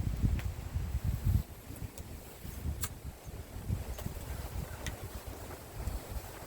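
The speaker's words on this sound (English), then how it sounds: "I apologize for the wind in the background." Wind blowing outdoors, rumbling steadily against the microphone with gusty low buffeting that is strongest at the start, plus faint scattered rustles and clicks and no voices.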